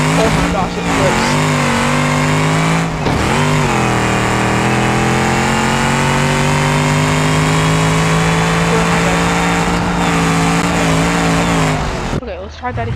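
A hot rod car engine in a video game drones loud and sustained, with a steady tonal whine that rises and dips with brief throttle changes before cutting off near the end.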